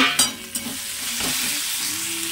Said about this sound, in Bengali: আদাটা ভাজা ভাজা হয়ে গেছে, কুচানো টমেটোটা দিয়ে দিলাম